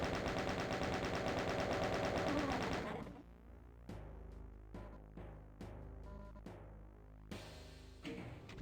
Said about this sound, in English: Why am I trying to fight that with a shotgun?